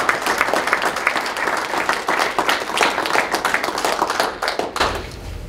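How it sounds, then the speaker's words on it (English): At a school board meeting, the room gives a round of applause, a close, lively clatter of many hands with distinct individual claps that tapers off near the end. "we can certainly give him a round of applause"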